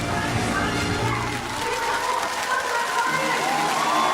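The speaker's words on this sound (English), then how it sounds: "The crowd is erupting in cheers and applause, waving their flags, thanking the Red Lions" A large outdoor crowd at a national day parade cheers and applauds after a military parachute display team lands, a continuous wash of clapping, shouts and children's voices, with a commentator talking over it.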